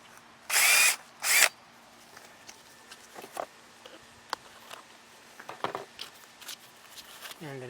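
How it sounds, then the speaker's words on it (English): Two short, loud bursts of a power drill whirring near the start, then quieter scattered clicks and handling noises. "let's drill another"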